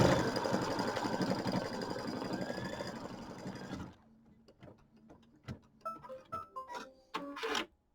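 An embroidery machine stitches a flower design, producing a loud, dense, rapid mechanical whirring for about four seconds. It then stops, leaving quieter scattered clicks and snips nearby.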